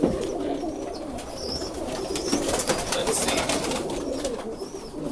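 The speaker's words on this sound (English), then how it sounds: "can you show us maybe an example of an Andalusian bird, maybe?" Andalusian roller pigeons coo in soft, repeated low calls amid a busy loft of other birds, with occasional faint chirps and a thin layer of background noise.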